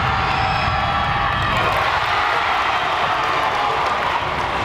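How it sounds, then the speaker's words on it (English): Loud crowd at a high school boys' basketball game in overtime, sustained cheering, shouting and clapping filling the gym without a break. "The crowd is loud."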